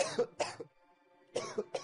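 A man stands outside a door and coughs in short, raspy bursts, two coughs, a brief quiet pause, then three more, close and clear in an otherwise silent setting.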